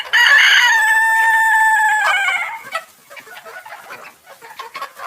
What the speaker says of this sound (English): the rooster takes the hens out of the coop and begins to crow